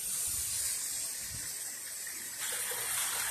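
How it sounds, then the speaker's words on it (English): Rain falling outdoors during a windy storm, a steady close wash of hiss and spatter that swells louder near the end, with no voices. "starting to rain again"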